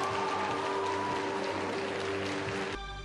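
Audience applause fills a venue during a Turkish TV drama event, a dense steady wash of clapping throughout with some background tones, fading slightly at the end.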